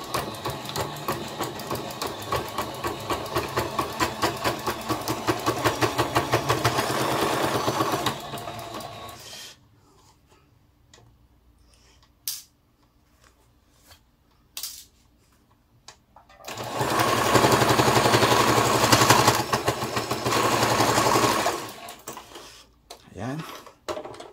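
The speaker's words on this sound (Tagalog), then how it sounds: "medyo mahihirapan si makina, lalo na pag medyo makapal yung cotton na ginamit nyo" A sewing machine stitches a cotton face mask in two long, loud, even runs, separated by a quiet gap with a few sharp clicks and handling sounds, then trailing into brief stops.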